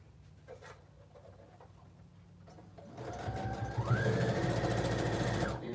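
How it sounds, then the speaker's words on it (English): A sewing machine stitching a quilted cell phone pouch, quiet handling at first, then the motor starts up with a rapid, steady needle chatter that rises in pitch as it speeds up and runs close and continuous. "I'm just gonna stitch these two to start with."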